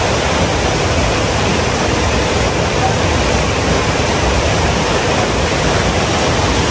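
Waves churning in the wave pool zone of the Aquaventure water park in Dubai: a loud, steady, unbroken roar of rushing water with no pauses.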